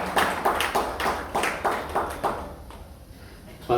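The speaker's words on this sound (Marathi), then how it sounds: "टाळ्या वाजल्या तर वाजल्यासारख्या वाजल्या पाहिजे." Audience clapping at a lecture-series event, a run of fairly loud, rhythmic bursts of applause that swell and fade several times before dying out, with one last clap at the end.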